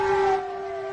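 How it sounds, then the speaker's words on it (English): An air raid siren in Fujian wails in a steady, sustained tone, moderately loud, with its pitch drifting slightly lower as it holds. "So this air raid siren in Fujian."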